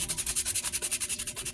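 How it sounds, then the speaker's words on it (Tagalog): Sandpaper rubs back and forth on a pipe end being prepared for solvent cement, a quick regular scratching rhythm of about eight strokes per second, close and alone. "Linisin yung tubo gamit ang papel de liha."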